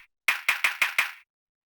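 Five crisp, dry claps of a piano house clap sample ring out in an even rhythm, each a sharp bright hit with a short tail, with silence before and after.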